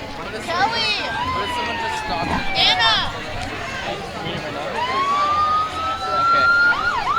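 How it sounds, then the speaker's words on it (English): Roseville Police Department cruisers sounding wailing, sweeping sirens at the start of a school homecoming parade, loud and rising and falling repeatedly, with voices and crowd noise underneath. "as you hear the sirens"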